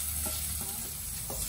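Sliced onions with a pinch of Himalayan salt are stirred in a sizzling pan for Bicol Express, the spatula scraping in a few soft strokes over a continuous frying hiss, with no talking.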